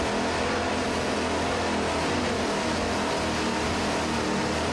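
Racing powerboat engines roar steadily during a powerboat race, a loud, dense, continuous drone with no breaks. No voices can be heard.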